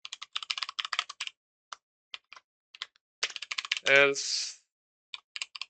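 Code being typed on a computer keyboard: bursts of crisp, close key clicks in uneven runs with short pauses, and a brief spoken word in the middle.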